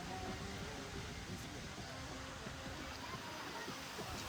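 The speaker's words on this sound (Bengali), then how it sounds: "এই যে ঝর্ণাটা দেখতে পারতেছেন" An artificial fountain in a large park in Russia sends out a soft, steady rush of falling water, faint and unbroken, with someone talking nearby.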